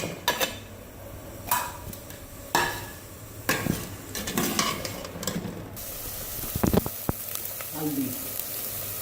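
Masala of onion, garlic, ginger, tomato and green chili paste frying in a pan while being stirred, with a soft sizzle and intermittent scraping and clinking of the spoon against the pan, and someone speaking briefly.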